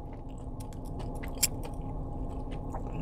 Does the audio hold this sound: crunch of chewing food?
yes